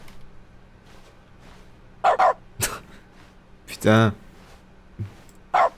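A dog barks in a few short bursts, some loud and close with one longer yelping bark, amid people talking in a room.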